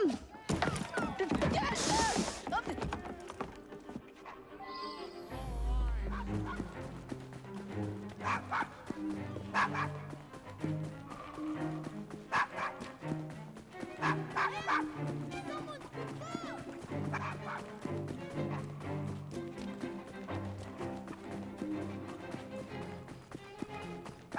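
A dog barks in Assassin's Creed Syndicate near an old London pub, several yips standing out against a dense, loud bed of game music and ambience, with a voice speaking over it.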